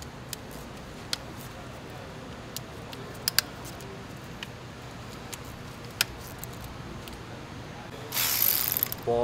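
A quarter-inch drive ratchet on a wobble extension turning a bolt while working on a 2001 VW Golf TDI timing belt, sparse quiet clicks scattered over a low hum, ending in a brief louder burst.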